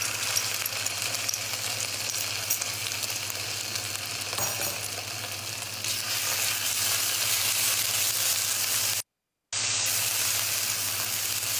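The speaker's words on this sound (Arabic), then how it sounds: "الحين نقدر نضيف معجون الثوم والزنجبيل" Garlic and ginger paste frying in a pan for an Indian-style coconut shrimp curry, giving a steady, close hiss of sizzling oil that runs unbroken apart from a short dropout, with no voices.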